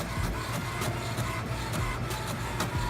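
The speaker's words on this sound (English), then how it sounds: "So there's the printer, and now there it is printing." An HP ENVY 5055 inkjet printer runs a page through, a steady close mechanical whir with repeated rhythmic clicks and pulses of the feed and print carriage, with no talk.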